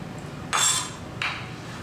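A knife slices rehydrated dried shiitake mushrooms into thin strips, making two distinct, crisp knocks against the board about two-thirds of a second apart in an otherwise quiet kitchen.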